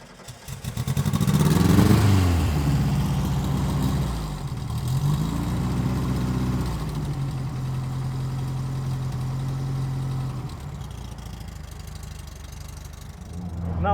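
A 1974 VW Super Beetle with a rear-mounted 1.6 litre air-cooled flat-four drives on the road, its engine droning loud and close, swelling under acceleration and settling to a steady hum.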